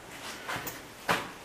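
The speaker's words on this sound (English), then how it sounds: "this is my temporary door handle." Two dull clunks from a 1934 Hupmobile 417W door being worked with a temporary handle that fits into the square latch shaft, the second knock sharper and louder, in a quiet workshop.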